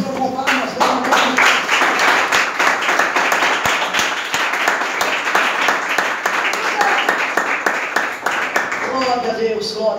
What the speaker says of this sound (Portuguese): e louve ao Senhor com palmas.